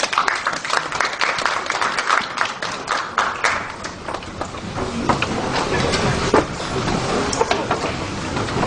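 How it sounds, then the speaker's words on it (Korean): An audience at a cryptocurrency exchange presentation claps to welcome a speaker to the stage, a steady, dense wash of applause lasting several seconds with no talking over it. "박수로 맞이해 주시기 바랍니다."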